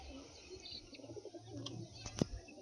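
Pigeons at a pigeon sale coo softly in the background, with a few faint chirps, a brief flutter and a sharp knock, heard quietly over low ambient noise.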